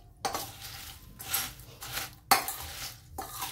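Papad chaat ingredients, crushed papad with onion, tomato and salt, being stirred in a bowl, bursts of scraping and clinking of a spoon against the dish recurring in uneven strokes, close and without speech.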